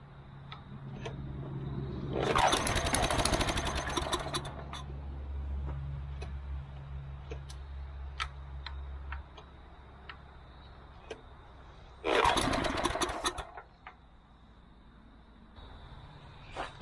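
A small engine being pull-started by its cord on a hay elevator being converted to a firewood conveyor, with ethanol buildup in the fuel bowl: two loud bursts of rough cranking a few seconds long, about ten seconds apart, with a low hum in between.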